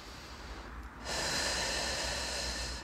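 A woman sitting or slightly reclined breathes during a Kegel weight exercise, a soft airy exhale rising into a louder steady breath hiss close to the microphone.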